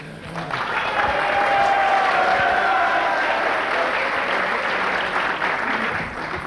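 An audience at an evening program in Cabella Ligure, Italy, rehearses its applause with a broad swell of clapping that rises quickly and holds steady at moderate loudness before easing slightly at the end.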